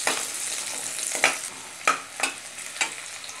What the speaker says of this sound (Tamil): சேர்த்துட்டு இது ஒரு நிமிஷம் வதக்கிக்கலாம் நல்லா